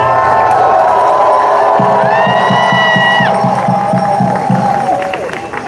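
Large outdoor political rally crowd in Harrisburg, Pennsylvania, cheering loudly and continuously, with a rhythmic chant emerging partway through over a sustained roar of voices.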